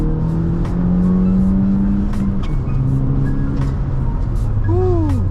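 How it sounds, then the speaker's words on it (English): A manual six-speed Audi A4 B8.5 pulls hard through second gear, engine note climbing in a loud sustained drone with rising pitch and a throaty growl, heard from inside the car without talk. "So let's get one half decent second gear pull"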